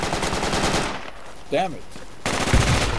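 Video game gunfire from Battlefield 2 Project Reality, with dense rapid automatic bursts at the start and end and a quieter gap between, and a voice speaking briefly over the shooting.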